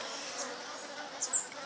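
City bees buzzing in a steady, close drone, with one louder swell as a bee passes near.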